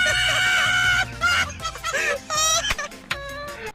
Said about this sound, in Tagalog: Pasensya na kayo sa ingay ng manok.